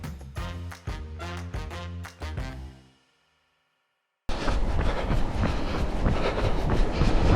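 A train pulls away toward Bathgate with rhythmic wheel clatter, drops into near silence, then gives way to a loud, broadband rumble of rolling stock close by.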